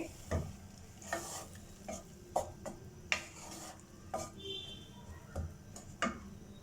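Keema mixture stirred in a pan, a spoon scraping and knocking the metal in repeated irregular strokes over a soft background sizzle, close and clear with no one talking.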